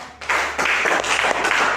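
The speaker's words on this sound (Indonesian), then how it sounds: "Tepuk tangan dulu untuk kita semua." A classroom group breaks into a short round of clapping, a brief burst of quick, uneven claps that lasts under two seconds.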